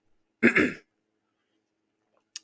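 A single short, rough throat clearing from someone getting over bronchitis, close and fairly loud, followed by quiet and a faint brief click near the end.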